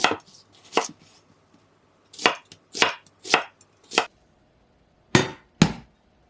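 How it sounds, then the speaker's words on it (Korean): Sharp knife chops through an onion on a cutting board in uneven bursts, a few quick strikes, then a pause, then several more, close and crisp. "양파는 반으로 자른 다음 적당한 크기로 썰어 주시고요"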